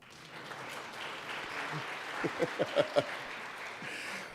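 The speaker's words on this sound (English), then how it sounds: "Now, we can all clap for that." Members in the Colorado Senate chamber applaud, a soft, distant patter of clapping that swells with a few louder claps before tapering off.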